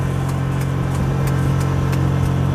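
A six-row rice transplanter's engine runs steadily in a paddy field, a continuous droning hum with a strong low tone, close and loud with no talk.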